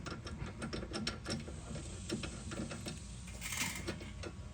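A hand ratchet clicks in quick, even bursts on a brake caliper bolt of a 2012 Honda CR-V, a close, fairly soft mechanical chatter against a low background hum.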